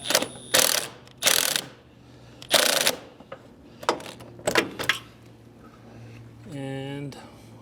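A ratchet tightens a 6 millimeter bolt on the diverter valve pipes of a Porsche Macan 95B1, giving short bursts of rapid clicking up close, separated by pauses, with a brief voiced sound near the end.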